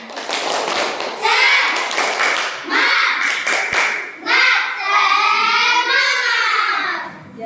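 A fifth-grade class performs a rhythmic 'tepuk semangat' cheer clap, bursts of patterned clapping broken by short pauses, with children's chanting voices running alongside the claps.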